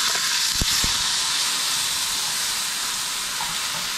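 Fennel, coriander and asafoetida spluttering in hot oil, a loud, steady, broad hiss with two sharp clicks near the start, close up and with no talking.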